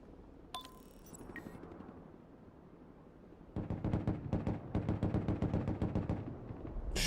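Sustained automatic gunfire crashes in the Broken Arrow video game set in the Baltic, starting after a quieter rumbling stretch with a few sharp metallic clinks, then rapid loud bursts of shots and fusillade for the last several seconds.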